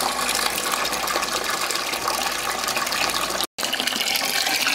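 Water gushing steadily into a home aquaponic grow bed setup, a loud continuous pouring flow heard up close, with a brief dropout near the end.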